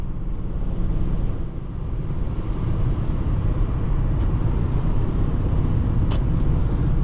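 A 1995 Lexus LS400 pulling away from a gentle launch, its engine giving a steady, loud low drone with road and wind noise from inside the cabin and faint ticks near the end.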